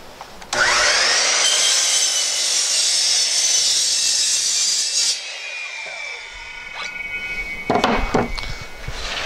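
A saw rips melamine cabinet panels pushed against the fence: a loud, sustained high whine that spins down, followed by a few short scraping and rubbing noises nearby.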